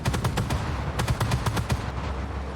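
A 7.62 mm PKT machine gun on a BMD-2 airborne fighting vehicle in the Armored Warfare game fires rapid, evenly spaced bursts, loud and close, with a short pause near the end.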